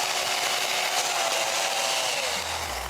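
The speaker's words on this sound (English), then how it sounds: "The chainsaw itself is slightly modified to cut ice." A chainsaw modified to cut ice runs steadily through a block of ice, a loud continuous grinding buzz with a slight drop in pitch near the end, no voices.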